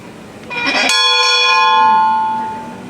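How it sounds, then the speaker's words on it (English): An old, heavy school bell is struck once, giving a bright clang followed by a long ringing decay with clear overtones, heard alone and close. "I'm gonna ring this annoying bell."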